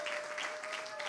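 A crowd applauds at a political speech by Kathy Hochul: a brief, dense, continuous burst of clapping at an even level.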